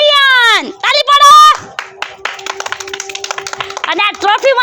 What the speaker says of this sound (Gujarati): તાળી પાડો.